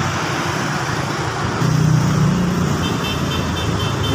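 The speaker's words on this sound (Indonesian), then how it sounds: "Bus wisata itu lor." A tour bus rolls through a road underpass among other traffic, its engine rumble swelling as it passes close by in the middle of the stretch and then easing off against ongoing road noise.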